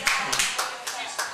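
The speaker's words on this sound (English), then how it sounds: "Feel free to applaud." A small audience at a skiffle show claps, with about five sharp bursts of hand claps at a loose, uneven rhythm, fairly close and lively.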